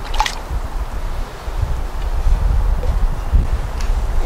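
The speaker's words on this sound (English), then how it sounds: "I just splash some water to make it look a little more natural." Creek water splashed by hand at a mink, muskrat and raccoon trap set, soft close sloshes and trickles over a low rumble of wind and flowing stream.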